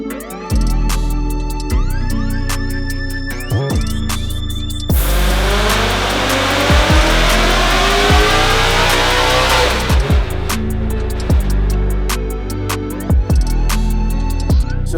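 Supercharged Ford Mustang S550 with a VMP Gen3R setup running E85 fuel on a chassis dyno, its engine revving repeatedly in loud rising sweeps that climb and drop back, with a sustained full-throttle pull in the middle, close and continuous.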